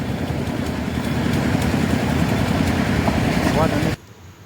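A motorcycle travels a potholed, debris-strewn road between Najafgarh and Dichaon Kalan, its engine a steady, loud rumble with constant road noise throughout before it cuts off abruptly near the end.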